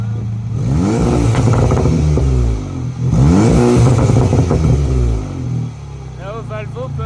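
An Audi S3 8V with a Bonnet exhaust, valve open, revs loudly up close in two long sweeping pulls that rise and fall, followed by a short lighter blip.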